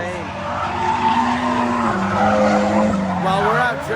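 A JDM car drifts with loud, sustained tire squeal and skidding lasting the whole stretch, the squeal pitch sliding and wavering as the car slides, with people talking faintly in the background.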